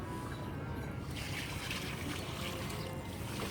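Water poured out to flow away at a Ganges ghat in Banaras gives a soft, steady trickle and splash that runs faint and unbroken for several seconds without speech.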